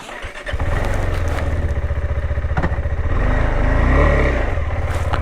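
A motorcycle engine drones loud and close, climbing a steep, broken, rough uphill road in the Darjeeling hills, the note holding steady with slight rises in revs and occasional clatter.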